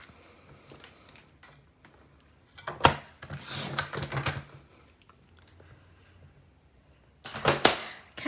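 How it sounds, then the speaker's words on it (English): Scrapbook paper being cut for a layout, with quiet snips and slicing strokes in bursts near 3 and 7.5 seconds against a soft background and no talking. "I need to cut double from this paper because we're working with both sides."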